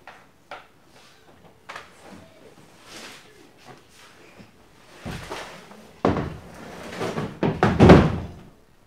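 Plastic seat of a Pelican The Catch 120 fishing kayak being lifted down, giving a few soft knocks and handling rustles, then a louder cluster of bumps and thuds near the end, close by with no talking.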